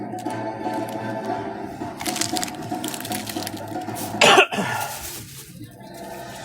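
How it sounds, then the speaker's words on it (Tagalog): A single short, harsh cough from a person with an itchy throat bursts out near the middle, loud and close, over a busy background of rustling and room noise. "Sa gabi inuubo ako."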